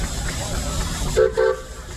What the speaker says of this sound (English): Beautiful 65 horsepower case steam engine.